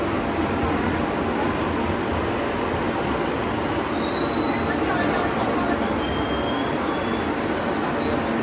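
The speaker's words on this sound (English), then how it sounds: "Now we're taking a subway to the hotel." Steady rumbling roar of a subway train in motion, with faint metallic wheel squeals rising over the noise midway through.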